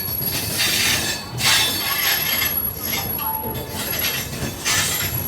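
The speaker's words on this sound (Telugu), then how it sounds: "ఫైనలీ మన ట్రైన్ అయితే విశాఖపట్నం జంక్షన్కి అయితే రీచ్ అయింది" A passenger train pulls into Visakhapatnam Junction, its wheels squealing loudly and shrilly in repeated bursts over a constant rolling rumble of railcars, heard close by.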